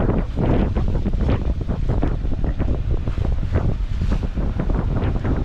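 Strong wind of 8 to 9 knots buffeting the microphone on a sailboat at sea, over a constant rush of water along the moving hull, loud and unbroken throughout.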